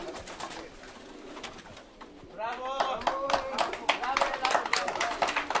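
Pigeons coo and flap near a loft in Katerini, Greece, with bursts of wing clapping and rustling growing busier toward the end, while people talk over them.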